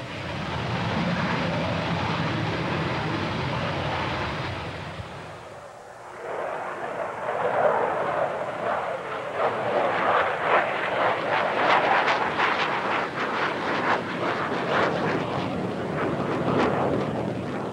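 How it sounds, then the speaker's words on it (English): The MiG-25 prototype E-155 jet roars in flight on archival film, a broad, rushing engine noise that fades briefly near the middle before swelling back, steady and fairly distant. "It is the first flight of the E-155, the prototype of what was to become the MiG-25."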